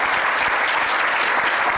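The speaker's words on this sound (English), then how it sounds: "please accept once again the speaker by a long applause." Lecture audience applauding at the end of a talk on the century-long quest to confirm Einstein's predictions, dense continuous clapping from a large crowd filling the room, loud and steady throughout.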